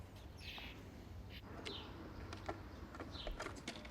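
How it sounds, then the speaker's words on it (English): Garden birds gather at a birdhouse during feeding time, with scattered chirps and tweets and a soft cooing, faint and a little distant over low background noise. "there's a right commotion over at the birdhouse"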